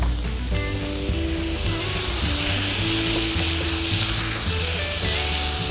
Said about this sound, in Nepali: अब यो ग्रेभीको लागि टमाटर र छ्यापी भुटिसक्यो राम्रोसँग।